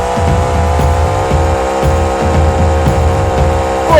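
A monster truck in the BeamNG driving game backs up in reverse, its engine giving a steady loud hum with a low rhythmic chugging underneath and a short rising whine at the end.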